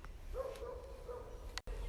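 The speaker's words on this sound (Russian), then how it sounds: "Реально там как будто собака." A dog at an abandoned pioneer summer camp gives a faint, distant whining bark, one drawn-out cry heard far off in a quiet outdoor setting.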